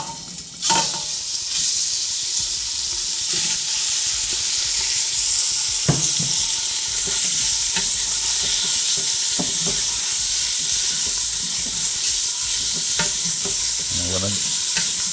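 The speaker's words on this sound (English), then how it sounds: "First thing I wanna do is brown the meat" Beef browning in a pressure cooker pot, a loud, continuous sizzle and hiss up close, punctuated by a few knocks and scrapes as the meat is tossed around, no speech.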